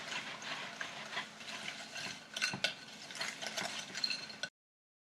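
Cookie dough churning in a mixer, a steady close-up grinding and scraping with small rhythmic knocks, running continuously before cutting off abruptly.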